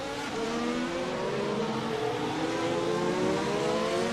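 Race car engines whine on track at Portimao in a racing video game, a steady high-pitched drone with pitch sweeping up through gears, loud and continuous with no talk.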